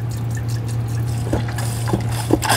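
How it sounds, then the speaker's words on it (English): Plain water poured into the radiator of a Ford F-150 SVT Lightning truck during a coolant flush, a soft steady trickle and gurgle with a low hum beneath and a few small knocks. "we're just filling it up with normal water"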